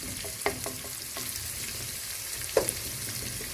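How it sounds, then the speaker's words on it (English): Onions fry in a pan over steady broadband sizzle, with a couple of sharp utensil taps standing out; no one speaks. "I'll let the onion cook"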